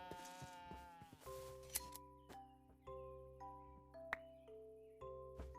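Goats bleating in the video game Underdog, a quiet wavering bleat followed by a run of short tonal chimes and clicks from the game, with no talk over it.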